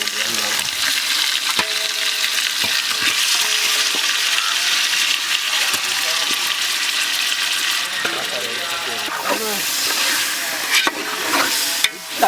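Chicken biryani being stirred in a large frying pot, with about two kilos of chicken and coriander powder, giving steady scraping, sizzling and clinking of a ladle against metal, close and continuous, with sharper knocks near the end.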